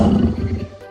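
A tiger gives one short, deep, rough roar that starts loud and fades within a second, close and alone with no talking.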